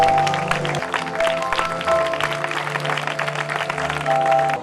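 Church congregation applauding to welcome a speaker to the stage, with steady clapping throughout over a sustained musical backing.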